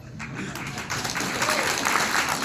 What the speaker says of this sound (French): Donc j'applaudis.